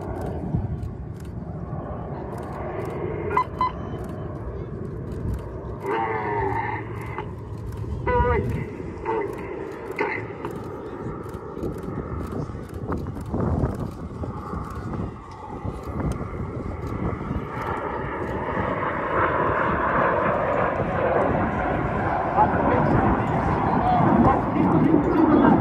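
Display team jet aircraft at an airshow pulling up into a vertical break at over 600 km/h, a distant roar that swells and grows louder toward the end, under an announcer's commentary with wind buffeting and radio chatter.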